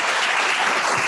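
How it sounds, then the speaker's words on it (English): A conference audience at a natural resources law event applauds a panel with steady, dense clapping that fills the whole moment, loud and close, with no talking. "Give everybody a round of applause."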